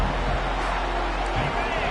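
Steady roar of a college football stadium crowd, a dense, even wall of noise with no breaks.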